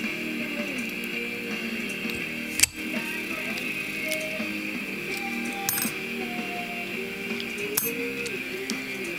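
A slightly rusty used Master Lock No. 930 with spool pins being picked open, giving faint, sparse metallic ticks and small clicks, one sharper click partway through, over steady background hum.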